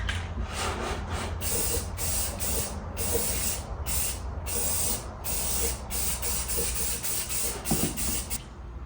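Spray paint hissing onto brake drums under a cardboard overspray hood, a loud close continuous spray broken into repeated bursts with short gaps between passes.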